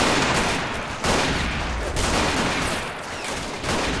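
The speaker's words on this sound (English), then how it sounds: "Get that machine gun rolling" Sustained World War I machine gun fire in the trench warfare video game Battle of Empires 1914-1918: a dense, loud, unbroken rattle of rapid shots over a few seconds, with brief dips in intensity.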